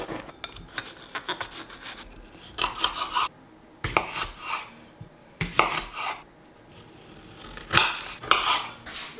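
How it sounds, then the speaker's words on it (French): A knife cuts through a bell pepper on a board, giving repeated crisp slicing and scraping strokes in irregular bursts with quiet gaps between them and no talking. "Le poivron, je vais le couper intégralement parce qu'il va me resservir pour ce soir."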